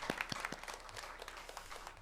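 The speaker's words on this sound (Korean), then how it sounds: "다시 한번 우리 하나님께 영광의 박수를 돌리겠습니다" Scattered applause from a church congregation during a Sunday worship service, faint and distant, with a few sharper claps standing out early before settling into a thin patter.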